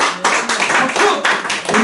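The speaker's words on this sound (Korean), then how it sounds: "여러분 교회 앞에 들고 오신 분들 박수해주고 칭찬해 주세요" A church congregation claps in a large hall during a sermon at a spiritual leaders' lecture event, giving a short, loud, close burst of dense hand-clapping.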